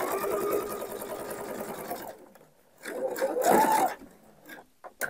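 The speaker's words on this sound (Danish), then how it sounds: "Vi syr lige den anden side på." A domestic sewing machine stitches fabric for a baby changing bag in two bursts of fast, buzzing whirring, close and fairly loud, separated by a quieter pause, with a voice speaking softly underneath.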